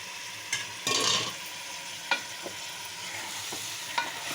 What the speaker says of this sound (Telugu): ఇప్పుడు క్లీన్ చేసుకున్న చికెన్ వేసుకోవాలి